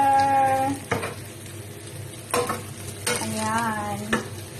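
Milkfish and carrots get stirred together in a pan of hot oil: a soft background sizzle with a few distinct spatula scrapes and clatters, plus faint tonal background sounds, heard up close.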